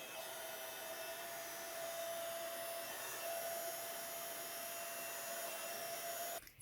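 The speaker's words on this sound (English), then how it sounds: "So then I'm going to heat emboss that with some clear embossing powder." A heat tool blows steadily to melt clear embossing powder on a stenciled card, giving an even, whirring, fan-like roar with a faint high whine that runs unbroken for several seconds before cutting off.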